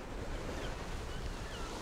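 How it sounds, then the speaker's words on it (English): Large sea waves crash and surge along the seafront promenade at Bridlington, Yorkshire, a continuous loud roar of surf mixed with wind buffeting the microphone, with no voices heard. "there's some absolutely massive waves that are crashing up along here"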